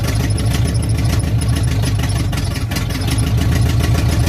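A carbureted engine runs steadily and loud up close, a continuous low rumbling idle with a faint uneven stumble as it sits at a dead spot in the throttle.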